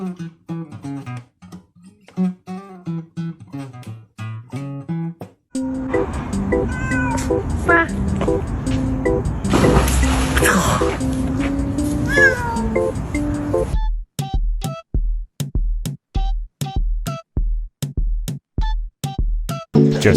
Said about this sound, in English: Just cats being cats.